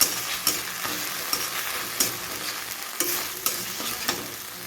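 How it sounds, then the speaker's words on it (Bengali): Ginger paste frying in hot oil crackles and sizzles steadily, with sharp scraping clicks from a spatoon stirring every half second or so, close and alone. "এবার দেবো আদা বাটা, একটু ভেজে নেবো"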